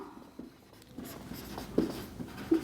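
Chalk writing on a classroom board, soft scratchy strokes with small taps at irregular intervals, faint and close in a quiet room.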